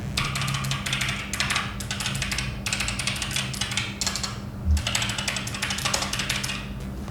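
Typing on a SIGNO KB-781 Magusta keyboard with optical blue switches: rapid bursts of crisp clicking keystrokes come in clusters separated by short pauses, close and fairly loud over a low hum.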